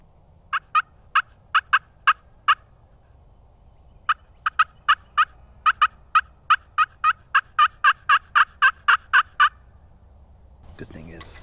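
Yelps on a fifteen-year-old slate turkey call, worked on a calm Florida turkey hunt: two runs of sharp, evenly spaced clucking yelps, about twenty strokes in all, close and clear against a quiet background, with a brief rustle at the end.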